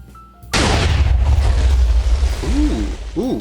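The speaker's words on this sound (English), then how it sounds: "we definitely saw 2 different points where explosions occurred" TNT cannon explosions in Minecraft Java Edition: a sudden loud boom at half a second becomes a sustained, rumbling blast roar that slowly fades, with brief tonal whooshing sweeps near the end.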